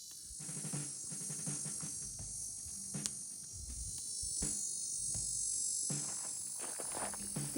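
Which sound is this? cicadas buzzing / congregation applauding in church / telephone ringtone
cicadas buzzing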